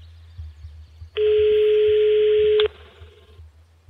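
A phone hang-up tone in the Runaway 3 video game: one loud, steady electronic beep lasting about a second and a half, cutting off abruptly over quiet background.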